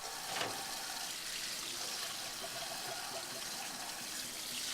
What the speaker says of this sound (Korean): 적지 않은 음식물이 남았지만 그것을 따로 모으거나 하지 않고 그대로 개수대에 버리는 모습